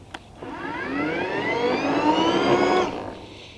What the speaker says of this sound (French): et même pour faire avancer la tondeuse, donc ça fait quand même un minimum de bruit